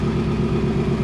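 A Ford Crown Victoria with a swapped 7.3L Godzilla V8 runs steadily at a low, even idle, a loud close rumble with no talking.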